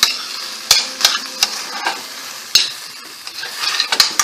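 A spoon stirring onions in a soup pot, repeated sharp clinks and scrapes against the pot over a bright sizzling hiss, close and fairly loud.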